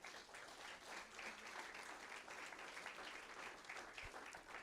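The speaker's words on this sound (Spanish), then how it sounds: "Dele fuerte el aplauso al Señor." A church congregation applauds during a Spanish-language evangelical sermon, a steady, dense wash of clapping held at an even level through the whole stretch, with no voice rising above it.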